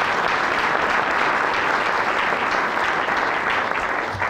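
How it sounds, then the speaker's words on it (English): Sustained, dense applause from a community meeting audience welcoming back firefighters just returned from fighting wildfires up north, steady and loud throughout with no pauses. "Round of applause for his people who just came back from the fires up north"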